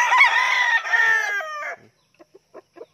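Fighting roosters and Brahma chickens, one loud close crow followed by several short soft clucks after a pause.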